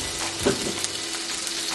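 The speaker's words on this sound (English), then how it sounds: "I hear that sizzle?" Hot grease with a splash of liquid smoke crackles and sizzles in a pan while making a burger, a bright continuous hiss with a few small pops, close by and loud.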